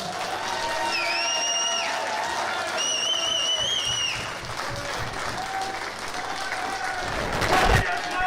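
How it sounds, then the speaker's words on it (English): Audience applause and some cheering at a bowls tournament final, with clapping running under whistling tones and voices, swelling louder near the end. "can you all give a big round of applause for their work?"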